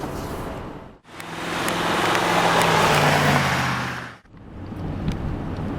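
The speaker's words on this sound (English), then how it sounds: "Driving along here on a little bit of a bumpy road here in the X5" A BMW X5 4.4i Sport with sport suspension driving over a bumpy road, a broad rumbling road and engine roar heard from inside, swelling and fading in two long surges separated by short dips, with no talking.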